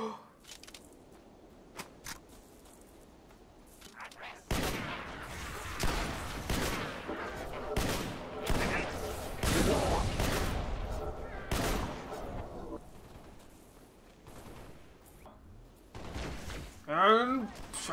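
Shotgun blasts and other weapon fire ring out in the video game Halo: Spartan Assault, loud repeated bursts in the middle stretch among explosions, with a player speaking at times.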